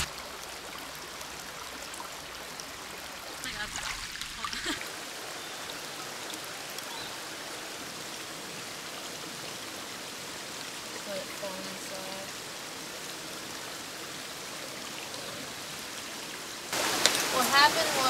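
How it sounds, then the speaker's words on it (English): A shallow stream gurgles with a steady, soft wash of flowing water, faint and even throughout, with a few quiet voices in the background. "the stream starts flowing much stronger towards me"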